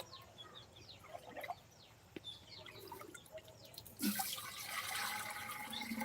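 Water is poured from a pot in a rural outdoor spot, a steady splashing rush that starts partway through and continues to the end, with scattered bird calls and a rooster-like call in the background.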